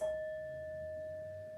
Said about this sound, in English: and I'm going to ring my bell